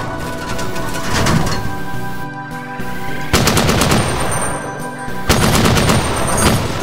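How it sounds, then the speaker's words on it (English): Sustained machine gun fire in the shooter DOOM: Hideous Destructor, loud rapid bursts with brief pauses between them, heavy and close, with no talk over it. "I am quite liking this machine gun."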